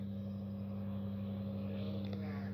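Electric motor of an E-flite Carbon Z T-28 RC warbird at quarter throttle, a steady, even humming drone with a constant tone and no change in pitch.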